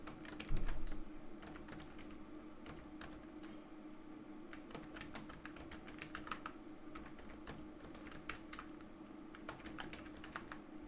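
Steady, quick clicking of computer keys as details are typed into a form, a close, even patter of keystrokes running throughout over a low constant hum, with one louder bump near the start.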